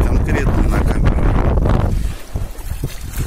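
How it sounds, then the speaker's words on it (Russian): Strong wind buffets a camera microphone on the bank of the Neman river fork near Sovetsk, where choppy waves are rolling: a loud, continuous low roar and rumble that eases slightly near the end. "вон ветрище такой задувает"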